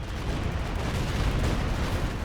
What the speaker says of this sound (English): with the enemy mortars coming down